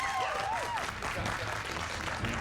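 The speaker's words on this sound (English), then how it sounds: "Give yourselves a round of applause." A studio audience of contestants on a televised cooking competition applauds in a dense, steady wash of clapping, with voices and cheers mixed in throughout.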